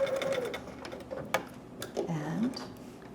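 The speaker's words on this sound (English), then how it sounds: "I'm going to back stitch just a little bit" A sewing machine back stitches a short run on fabric at the neck curve of a dragon or unicorn hood, giving a brief close mechanical whir with clicks and ticks in the middle of a quiet room.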